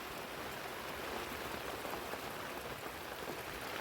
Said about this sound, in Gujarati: તો જો ચાલુ થઈ ગયો હવે વરસાદ ધીમો